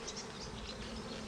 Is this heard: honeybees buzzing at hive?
yes